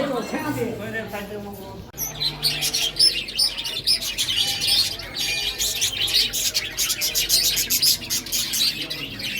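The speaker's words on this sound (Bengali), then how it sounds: "এখানে প্রচুর পাখি রয়েছে রং বেরঙের" Many small, colourful birds chirp and tweet busily at a temple, a dense chorus of high calls that continues throughout, with a low murmur of voices underneath.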